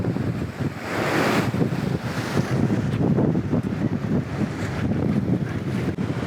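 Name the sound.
strong sea wind noise while sea bass fishing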